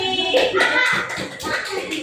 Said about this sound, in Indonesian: Tepuk tangan buat Umi